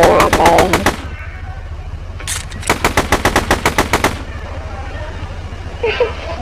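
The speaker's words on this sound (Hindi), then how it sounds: "अब उसको गोली मार रही है" Automatic gunfire in a video game: two loud, close, rapid bursts of evenly spaced shots, a short one at the start and a longer one after a brief pause, followed by a quieter background.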